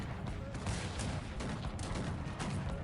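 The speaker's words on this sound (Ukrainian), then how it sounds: "Розстрілюємо за той час, гармати працюють, все добре." Cannons fire in the Cossacks 3 strategy game as a quiet, fairly distant string of booms and cracks over a continuous battle din.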